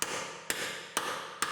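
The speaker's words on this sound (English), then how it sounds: "Hammer it on there." Three sharp, evenly spaced metal hammer blows drive a universal wheel lock removal key onto an Acura RDX wheel lock, each strike loud and ringing briefly in a garage setting.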